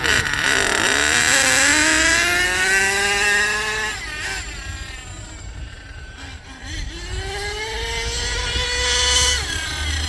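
A nitro engine in an HPI Savage RC truck with a three-speed gearbox revs up and down on a warm-up run, a loud buzzing whine rising in pitch, easing off, then climbing again.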